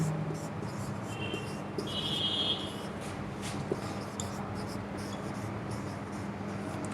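Chalk or marker writing on a board during a Hindi grammar lesson, faint scratchy strokes over a steady low hum of room noise, with a brief high squeak partway through.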